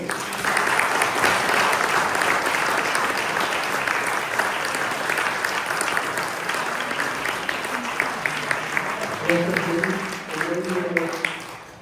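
A seated audience in a Montpellier lecture hall claps warmly for an author, steady applause swelling early then thinning to scattered claps, with a voice speaking over the tail end.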